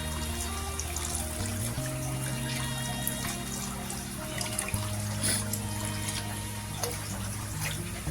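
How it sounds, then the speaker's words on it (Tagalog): Water is poured into a fish tank, a continuous close splashing and trickling stream that runs steadily throughout, with a low hum underneath. "Aliyah, bubuhos lang natin yan dyan"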